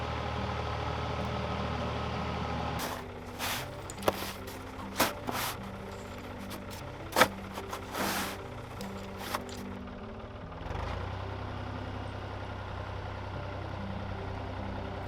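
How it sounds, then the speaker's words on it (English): On a snowbound Norwegian farm, a tractor engine hums steadily while clearing snow with its blade, the engine note shifting as it works, with scattered clanks and scraping knocks over the drone. "Even our trusted tractor had problems as the snow kept piling up behind the blade."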